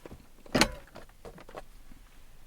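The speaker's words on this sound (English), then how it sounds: "we shut this door like so" A camper van door is pulled shut with a single solid thump close by, then quiet rustling and faint background noise.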